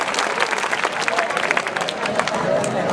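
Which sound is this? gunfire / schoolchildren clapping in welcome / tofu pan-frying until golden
schoolchildren clapping in welcome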